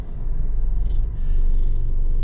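A Jeep Renegade engine with bad motor mounts, put in gear, gives a steady, loud, close low rumble with faint rattling and shaking throughout, and no voices.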